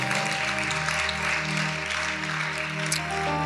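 A church congregation claps hands amid music, a dense sustained patter over steady organ-like tones and low instrumental notes, with no voices.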